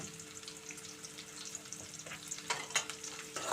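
A tempering with onions sizzles quietly in a pan over a medium flame while a utensil stirs and scrapes now and then, the strokes growing busier toward the end, with no voices.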